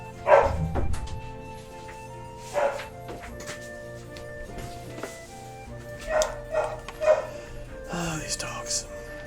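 Dogs in Final Fantasy XI barking and yipping in short scattered bursts over game background music, with a person talking in between.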